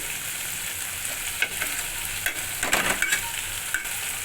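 Desi chicken curry meat fries in released oil, a steady bright sizzle with a handful of sharp stirring scrapes and clatters clustered in the middle, close and alone without speech.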